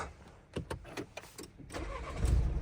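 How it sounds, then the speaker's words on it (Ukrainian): Opel Vivaro 1.6 CDTi passenger van from 2017, 104,000 km, with its diesel engine cranking through several short bursts before catching and settling into a steady, close, loud idle. "Заведу. Послухаємо роботу двигуна."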